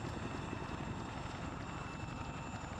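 Steady, loud rotor thrum of a helicopter flying in Arma 3, a continuous close drone with rapid blade chop and no pauses.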